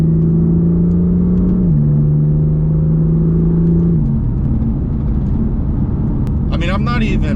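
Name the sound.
BMW M4 car engine while driving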